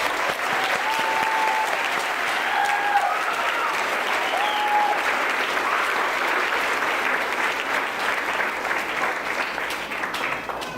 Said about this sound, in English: Join me in giving Bridget a round of applause.